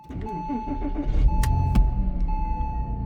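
A Porsche Boxster engine cranks and catches after an immobilizer fault, then settles into a rumbling idle, with a steady electronic tone running throughout and a couple of sharp clicks.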